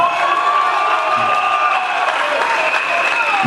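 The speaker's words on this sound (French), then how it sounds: "On l'applaudit très très fort." Audience applause and cheering at a ceremony handing out Exetat 2022 success certificates, a dense sustained wash of clapping with whoops and shouts layered on top, loud and close throughout.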